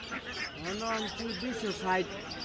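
Native village ducks quack at a busy market, several nasal calls clustered close together, partly under a man's speech and the crowd's background murmur.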